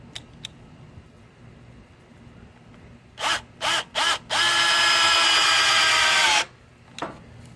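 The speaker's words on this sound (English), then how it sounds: "It's in drill mode." A Stanley 20V cordless hammer drill in drill mode gives three short bursts, then a sustained whine of about two seconds before stopping; quiet room tone around it.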